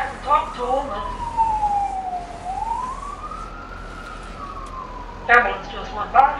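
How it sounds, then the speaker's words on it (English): A siren, heard in a Farming Simulator 22 game on an American farmland map, wails in a slow rising and falling tone as it passes, moderately loud, with talk before and after. "the ambulance just went by."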